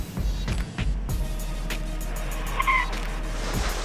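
A car skids on a skid pan with its anti-lock brakes disconnected, a loud close engine roar under a brief tire squeal, no voices.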